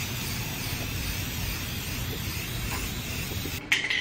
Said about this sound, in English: The first part of the project is to spray paint these items black.